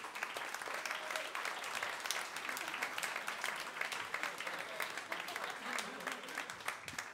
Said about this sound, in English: Make some noise for Scott Spinelli.